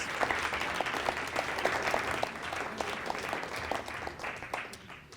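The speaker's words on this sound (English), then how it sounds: "let's give the parents a round of applause" Families at a high school boys' soccer banquet give a round of applause, a moderate, steady patter of many hands that fades toward the end.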